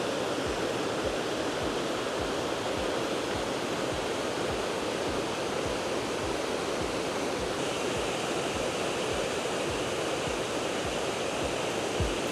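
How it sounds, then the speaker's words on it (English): Water rushes and pours continuously in a steady, broadband roar from a waterfall close by at Enders Falls, with no voices. "The waters are flowing so good."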